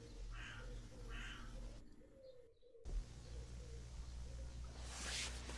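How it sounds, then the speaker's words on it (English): A pigeon coos in low repeated phrases outdoors, joined by other bird calls and a brief chirp, under a steady background hum, fairly faint. "Now there's a pigeon joining the chorus."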